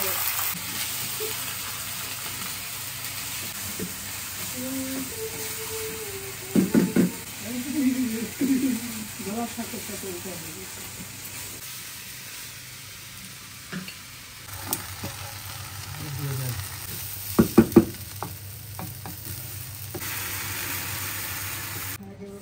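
Chinigura rice for pulao stir-fries in a pan with a soft sizzle and occasional scraping stirs, while a person talks intermittently over the cooking sounds.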